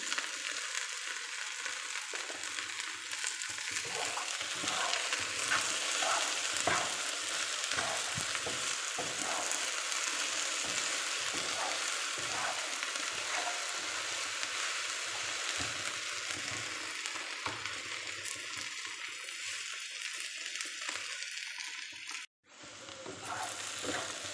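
Tender okra bhaji cooking in a pan with salt and turmeric, a dense continuous sizzle with faint crackles and occasional stirring, close and steady for a long stretch, briefly cut off near the end.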